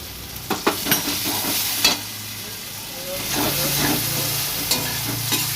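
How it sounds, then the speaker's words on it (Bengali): Ground cumin-coriander paste being sautéed in a hot pan for a fish dish. A soft continuous sizzle and hiss sit under irregular spatula scrapes and taps, heard up close with no speech. "এরপর আমি ভালো করে কষিয়ে নেব"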